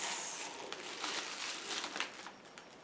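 A small plastic bag being opened, crinkling and rustling continuously for a few seconds close up, with no talk.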